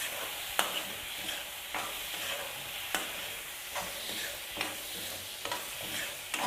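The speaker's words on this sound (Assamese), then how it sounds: "এতিয়া ফুল ষ্টিমত আমি এইখিনি ভালদৰে ভাজি দিম" Ingredients for a chicken curry frying hard over full heat in a pan, a steady close sizzle broken by regular stirring scrapes about once a second, with no talk.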